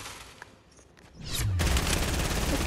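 Tommy gun in Fortnite opening up after a quiet moment, a continuous rapid stream of shots that stays loud and steady to the end.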